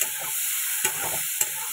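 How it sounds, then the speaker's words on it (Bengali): Prawns fry lightly in a pan with a continuous close sizzle, broken by two brief scraping clatters of a spatula stirring them. "এবার আমি চিংড়ি মাছটা ভেজে নিচ্ছি"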